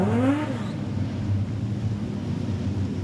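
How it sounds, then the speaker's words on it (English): Production sedan race cars circling Maryborough Speedway under caution during a rain delay, a steady engine drone with a brief rising rev at the start, heard at moderate distance with wind noise. "Cars are just going to roll around momentarily while this bit of rain falls."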